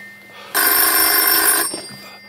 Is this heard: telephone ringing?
yes